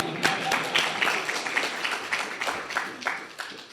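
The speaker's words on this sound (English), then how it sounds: "Give a big applause to Helen, please, and her Hungarian." Audience applause in a conference hall at a family formation event, a dense, steady patter of many hands clapping for a few seconds at moderate volume.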